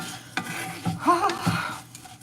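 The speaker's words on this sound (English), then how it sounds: "you just want to stir it completely to make sure that every grain is covered by that little bit of butter" A spoon scrapes and stirs arborio rice coated in butter in a pan for risotto, making a few soft scraping strokes with a faint sizzle underneath.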